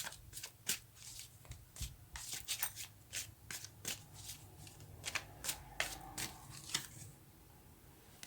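Tarot cards being shuffled by hand, a run of quick crisp riffling bursts and soft slaps close up in a quiet room, with no talking.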